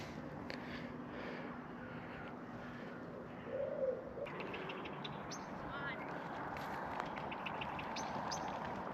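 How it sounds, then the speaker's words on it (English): Birds call and coo beside an overgrown river in quiet countryside, with a pigeon-like cooing standing out among soft background chirps, faint and distant with muffled talk at times. "birds chirping away"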